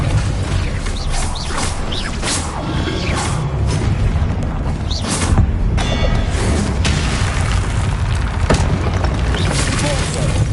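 In Hogwarts Legacy, Confringo fire spells are cast repeatedly, giving dense, loud crackling and booming blasts with mechanical clanks over a constant bed of game noise, with a voice shouting at times.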